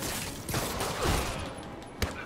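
Rapid gunfire volleys crackle in the video game Marvel's Spider-Man, fairly faint and mixed into busy game sound, with a sharper single shot near the end.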